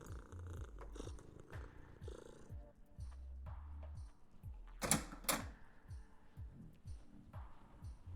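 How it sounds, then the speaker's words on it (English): Cat purring in a video game, a soft rhythmic rumble pulsing steadily under faint background game sounds, with two short sharp clicks near the middle. "Oh, it's that cat."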